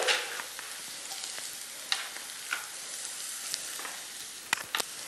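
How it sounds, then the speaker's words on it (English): Potatoes and onions sautéing for a Spanish omelette, a soft even sizzle with a few scraping stirs and light clinks near the end, fairly quiet and close. "And give it a stir."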